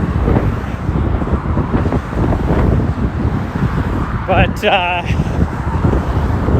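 Freeway traffic rumbles and hisses steadily nearby under strong wind buffeting, with a voice speaking briefly near the end.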